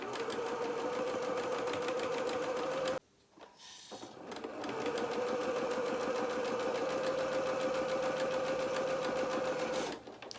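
A domestic sewing machine runs a steady zigzag stitch along a trouser seam, a close, even mechanical whirr with a brief pause midway before it resumes.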